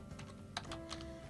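Typing on a computer keyboard to enter text into a Word table, heard as a quick run of light, faint key clicks at an uneven pace, with no speech over it.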